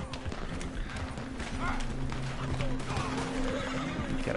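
A horse neighs and whinnies amid hoof clip-clop and a busy outdoor mix, with voices talking over the scene throughout.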